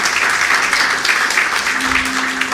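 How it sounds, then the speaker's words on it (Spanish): Congregation applauding during a Spanish-language church sermon, a dense steady wash of clapping filling the space for a couple of seconds with a faint sustained tone near the end. "Démosle un aplauso a Él."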